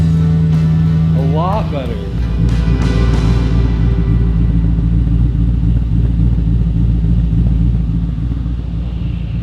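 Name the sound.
car engine running and revving with mufflers removed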